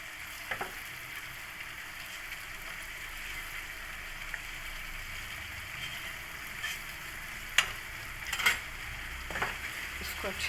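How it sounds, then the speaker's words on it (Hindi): Eggs fry in a pan with tomatoes, a soft steady sizzle underneath a few sharp clinks and scrapes as a spoon stirs them, fairly quiet and with no talking. "उसके बाद अब इसमें हम अंडे जो हैं एक एक करके तोड़ के डालेंगे। और इसको पकाते जाएंगे।"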